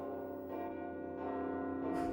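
Church bells ring steadily with a rich, sustained tone, their overlapping strikes building slightly in loudness toward the end.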